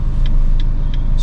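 A manual car pulls away in first gear as the clutch is released, a steady low engine rumble dominating, with faint periodic clicks above it and no talk.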